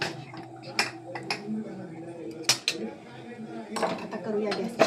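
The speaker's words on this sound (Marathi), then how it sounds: "आता आम्ही बंद करू कुकरचं झाकण." Metallic clinks and clacks of a pressure cooker lid being fitted and locked in a home kitchen, several sharp knocks at irregular moments with a voice speaking underneath.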